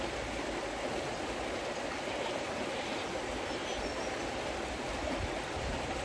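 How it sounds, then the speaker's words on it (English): Steady rushing of a flowing river, a constant broad wash of water noise with no pauses, close and even throughout. "just tune in to the sound of the river"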